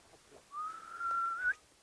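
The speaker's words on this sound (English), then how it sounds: "is the sound of whistling." A single long whistle from people calming a black yak during shearing in a Bhutan village. The clear tone glides slowly upward for about a second, then stops abruptly, with quiet surroundings before and after.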